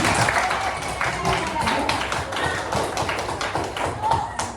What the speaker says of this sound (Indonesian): Coba tepuk tangan dulu dong untuk Arjuna